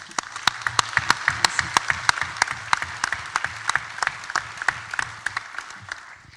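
Applause from a conference audience at a 2014 congress opening plenary, dense steady clapping from many hands throughout with sharp individual claps standing out, no talk over it.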